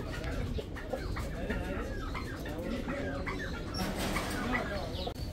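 Quail and other fowl cluck and chirp in a busy bird market in Baghdad, with dense overlapping calls and crowd voices in the background throughout.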